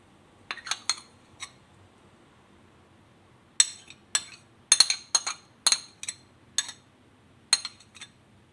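A spoon clinks repeatedly against a bowl while mixing avocado and curd cheese into baby oatmeal, sharp bright taps in irregular clusters with brief pauses, close and clear over quiet.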